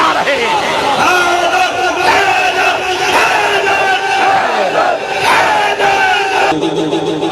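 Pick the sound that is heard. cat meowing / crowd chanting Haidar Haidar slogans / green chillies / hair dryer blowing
crowd chanting Haidar Haidar slogans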